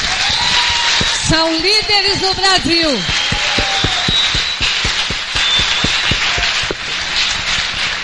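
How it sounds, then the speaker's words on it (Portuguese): A live audience cheers and claps for a group of young people, a loud whoop over a voice at the start, then a steady run of sharp, evenly spaced claps beneath continuing talk. "Eu queria um aplauso enorme para esses meninos."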